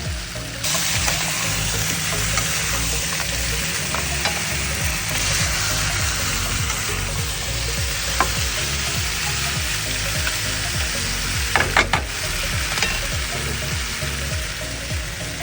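Pork ribs sizzle steadily in a hot pan, a loud, close, continuous frying hiss with a few brief clinks and scrapes near the end and no talking.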